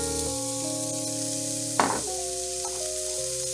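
Onions hit hot olive oil in a frying pan with a sudden burst of sizzle that settles into a soft steady hiss, all under a sustained musical background.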